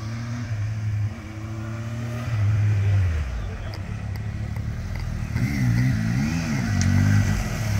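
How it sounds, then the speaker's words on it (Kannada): A couple of motorbikes pull up nearby, their engines rumbling and revving with rising and falling pitch as they approach and idle close by, while people talk over the noise. "Talking about bikes, I here couple of more."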